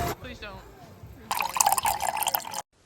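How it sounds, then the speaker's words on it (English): Artificial indoor rain at the Rainforest Cafe bar, heard as water splashing and dripping, quieter at first and then a louder hissing patter that stops abruptly, with a voice talking over it. "It was still there and it was raining."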